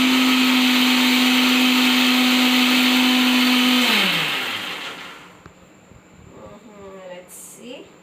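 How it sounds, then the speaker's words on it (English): A kitchen grinder whirs loudly and steadily for about four seconds, its motor pitch sliding down as it powers off, followed by a quieter stretch with faint voices. "So now we will run the grinder."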